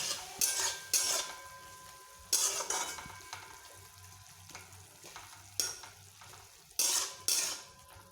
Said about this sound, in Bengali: সেই জন্য একদম হালকা করে সিমে ভাজতে হবে সব কিছু।